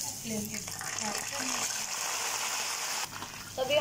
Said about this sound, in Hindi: तो अभी हमने ये फ्राई होने के लिए रख दी है